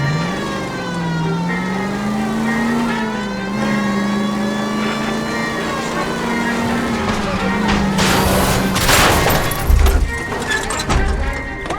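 A car engine revving hard during a police chase in the video game L.A. Noire, a loud sustained drone rising and falling in pitch, with thuds and crashing bursts near the end.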